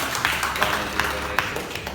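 Audience at a Denpasar community outreach meeting clapping in a steady, evenly spaced rhythm, moderately loud and a little distant, over a low room rumble.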